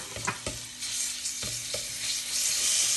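Two crushed garlic cloves pounded with salt hit two tablespoons of ordinary vegetable oil in a pressure cooker, giving a steady close sizzle and fry with a few clinks and stirring knocks.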